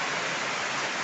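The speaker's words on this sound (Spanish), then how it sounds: "Qué delicia como cae la lluvia." Rain falls steadily outdoors on an April day, a dense, even hiss of drops with no breaks or voices, loud and close throughout.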